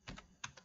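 A few quick keystrokes on a computer keyboard, four soft close clicks in two pairs, faint and alone.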